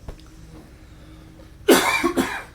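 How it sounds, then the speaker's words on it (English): Two harsh coughs close together near the end, loud and close, after a stretch of quiet room tone. "Well, you're coughing up a lung."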